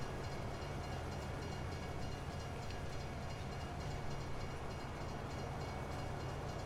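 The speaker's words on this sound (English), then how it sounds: "I don't know if this train is going to move after I leave or not" A train in Farming Simulator 19 gives a steady, close rumble with a faint rattle throughout, with no speech.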